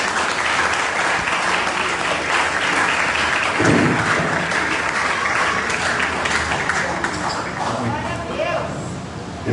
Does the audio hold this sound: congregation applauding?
yes